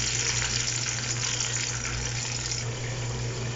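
Tomato paste and browned onions going into hot oil for a restaurant-style pulao give a steady, close, loud sizzle with watery frying hiss that holds evenly throughout, with no talking.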